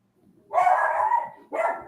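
A dog gives two close, loud barks indoors, a long drawn-out bark followed by a shorter one, with no talking over them.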